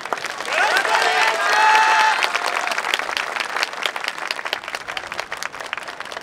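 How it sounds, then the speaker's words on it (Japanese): Crowd at the Kurosaki Yosakoi Festival 2022 main stage gives loud, dense applause for a yosakoi dance troupe's performance, and the clapping thins into scattered sharp claps and faint voices. "どうぞご手拍子"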